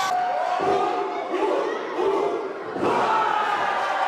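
A wrestling arena crowd roars and cheers in a sustained swell of shouting voices, dipping briefly before surging louder again.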